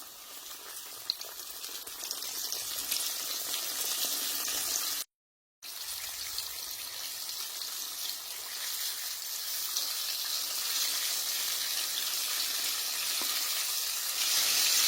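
Fish coated in flour frying in hot oil, a steady broad hiss and sizzle that holds throughout, cut by one brief silent gap, with no talking.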